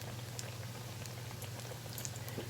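Buttermilk apple fritters bubble in an old deep fryer, a faint, steady crackle and popping patter over a low electrical hum.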